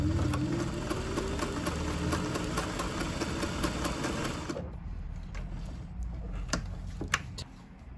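A 1961 Singer 503 Slant-o-Matic sewing machine runs steadily with a mechanical whir and rapid needle clatter, loud and close, then cuts off about halfway, leaving faint taps and handling noise.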